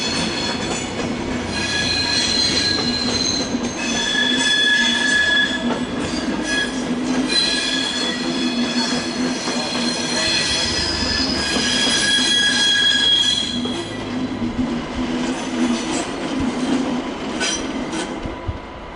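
A passenger train hauled by a locomotive in Railjet livery, approaching München Hauptbahnhof, rumbles steadily while its wheels squeal in high, shrill, wavering tones, loud and close for a long stretch.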